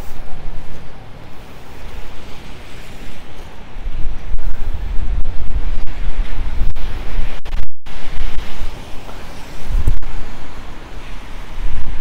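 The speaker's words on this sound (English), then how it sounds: "The wind seems to be coming from the south, which is kind of unusual." Strong wind gusting downtown in Regina during snow, a loud continuous roar buffeting the microphone with swelling gusts and brief dropouts, no voices.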